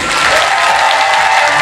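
Audience applause at a large motivational youth megaforum event, a dense steady wash of clapping from many hands filling the hall throughout.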